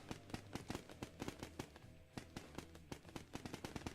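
Rapid machine gun fire from a video game, dense bursts of sharp shots rattling on and off in quick rhythm with brief pauses, loud and close, no voices.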